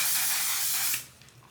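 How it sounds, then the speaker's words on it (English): A quick burst of makeup setting spray hisses loudly and close for about a second, then cuts off, leaving a quiet room with faint small sounds. "So quick spray."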